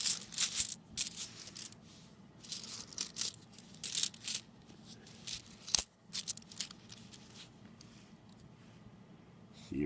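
Coins poured from a freshly opened coin roll during coin roll hunting, several bursts of metallic clinking and tumbling spread across the clip, close and fairly quiet, with pauses between pours and a low hum in the background.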